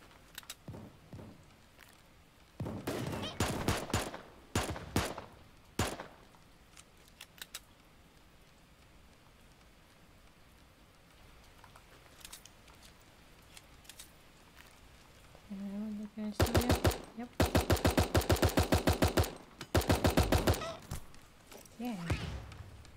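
Shotgun blasts in the cartoon battle royale game Super Animal Royale come in quick clustered bursts of sharp cracks, with a dense volley near the end and quiet gaps between.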